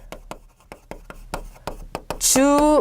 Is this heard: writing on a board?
yes